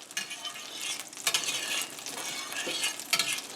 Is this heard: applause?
no